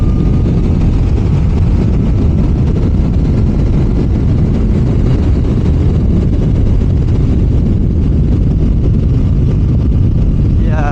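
A Suzuki GSX-R motorcycle engine pulls hard on a country road, a loud continuous low roar mixed with heavy wind rush that holds steady for the whole stretch without a pause.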